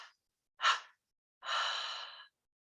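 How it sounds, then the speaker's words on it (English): Three exhaled breaths during a guided meditation, each a breathy whoosh close to the mic separated by silence, the last one longest and steadiest. "And now a triple exhaling breath."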